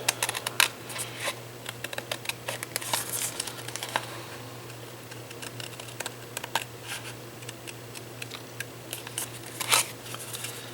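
Card stock is cut out by hand with scissors, producing a long run of small, irregular snips and paper rustles close up over a faint steady hum.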